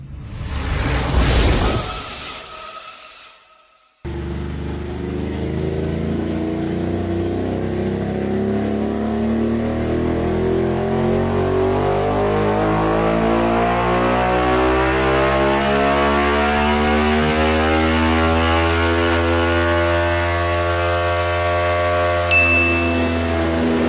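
A Ducati Monster 937 engine runs hard on a dyno, a loud steady motor note climbing in pitch through the gears over about twenty seconds after a brief burst of noise at the start.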